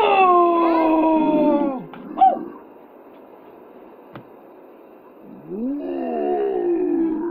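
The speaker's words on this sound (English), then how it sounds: "Oh God! What a growl!" A long, deep bellowing growl from a creature in the PokePark video game, loud and close, falling in pitch, then a quieter stretch before a second rising growl.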